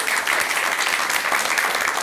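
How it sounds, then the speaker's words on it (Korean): An audience at a Buddhist temple talk led by a monk gives a short burst of applause, dense and steady clapping from many hands filling the room. "박수라도 한번 보내요"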